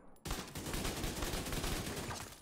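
Rapid automatic gunfire in the Division 2 video game, starting abruptly after a brief quiet and continuing as a dense, loud, steady burst of shots aimed at enemy heads.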